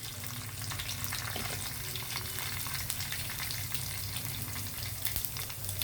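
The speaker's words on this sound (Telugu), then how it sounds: "ఇదిగోండి పప్పులు కొంచెం దారగా వేగాయి" Urad dal, chana dal, cumin and mustard seeds fry in hot oil for a broad bean and potato stir-fry, giving a dense, even sizzle that holds steady throughout, close and unbroken, with no talking.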